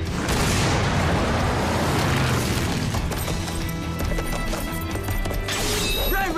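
War horses gallop with heavy thudding hooves and neigh loudly amid a dense, booming battle-style soundtrack, with the rush of hoofbeats filling the whole stretch.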